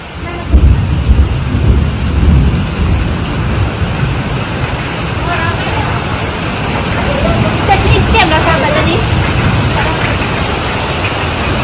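Steady rain falls outdoors on arrival at a crepe shop, a dense continuous hiss with low rumbling that fills the whole stretch and stays fairly loud throughout.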